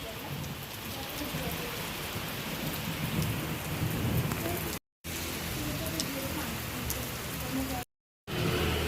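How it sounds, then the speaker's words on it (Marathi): Steady village rain hisses on surfaces in a dense, even wash at moderate distance, broken by two brief moments of silence. "आता पाऊस थोडा कमी होत चालला आहे"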